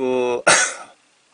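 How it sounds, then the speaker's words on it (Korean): A single harsh cough bursts out right after a voiced sound, loud and close, then fades into silence. "기침 나는데 뭐가 약이죠?"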